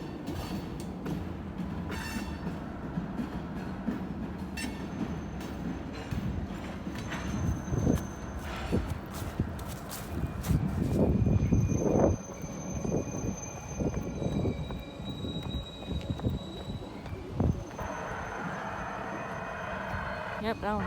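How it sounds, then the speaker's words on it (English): Intermodal freight train moving through Manchester, Georgia, a continuous rolling rumble with clanks and swells of wheel noise, a brief louder passage midway, and thin tonal squeals, while a person talks intermittently. "Intermodal train's going."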